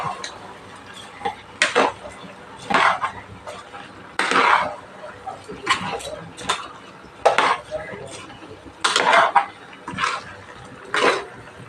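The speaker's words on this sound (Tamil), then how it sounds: "சேர்த்துக்கிட்டு இதை அப்படியே ஒரு கிளறி விடுவோம் எல்லாத்தையும்" A spoon or ladle stirs vegetable biryani with salt in a metal pot, making about ten separate scraping, clanking strokes with brief pauses between them, close and fairly loud.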